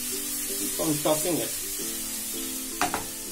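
Paneer and vegetables stir-frying in a pan, a gentle sizzle over a low tonal hum, with a few brief scraping stirs and utensil knocks, close and moderate, no clear talking.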